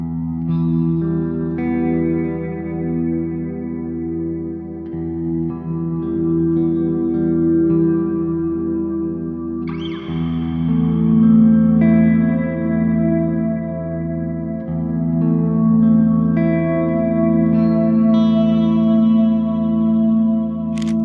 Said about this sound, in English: Let's say you want a very washy, clean, bright ambient sound.